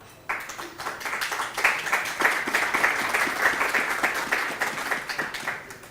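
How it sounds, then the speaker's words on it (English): A conference audience at a Blackmagic Design expo in Kenya breaks into steady, sustained applause that starts abruptly and holds at a dense, even level throughout, with many hands clapping at once and no voices rising above it. "Please, another round of applause."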